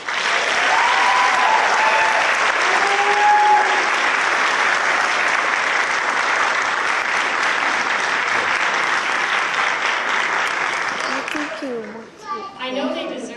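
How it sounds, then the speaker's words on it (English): Sustained, dense applause from an audience at a nursing pinning and graduation ceremony, with children's voices mixed in; the clapping holds steady for about eleven seconds, then fades as a voice begins speaking. "let's stop and give a big round of applause to all of those loved ones"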